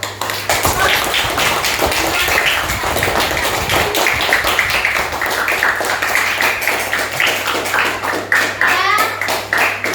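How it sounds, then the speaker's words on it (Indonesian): Steady applause from a classroom of students fills the whole stretch, dense and continuous with sharp claps close by, while a low hum runs beneath. "Ya, kita beri tepuk tangan dulu."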